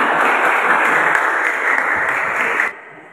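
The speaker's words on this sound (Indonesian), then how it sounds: "Tepuk tangan semua." A teenage church study group breaks into applause, a dense steady clatter of many hands clapping close by that stops abruptly near the end.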